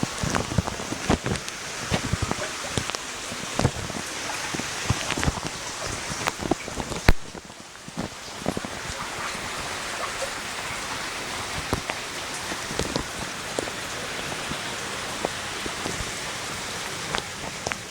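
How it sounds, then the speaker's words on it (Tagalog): Heavy rain pours down steadily during the Ondoy typhoon flood, a dense continuous roar of drops pattering on surfaces with occasional louder close splashes and gusts, steady throughout. "bonggang-bonggang baha"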